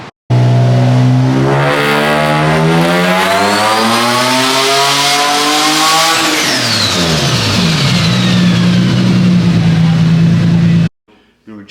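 Loud, close engine of a turbocharged Nissan G35 sweeps steadily upward in pitch through a full-throttle tuning pull, then drops off and holds at a lower drone before cutting out abruptly.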